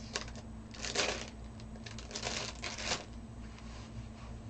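Artificial flower stems being cut for a breast cancer awareness swag, giving a few soft crisp snips and rustles over a steady low hum.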